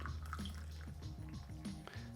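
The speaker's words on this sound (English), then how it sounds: "you can pour straight out into your cups through the easy pour spout" Brewed coffee from a Ratio Six flat-bottom filter basket is poured through a spout into cups, a soft, quiet trickle and splash with faint drips, close up and alone.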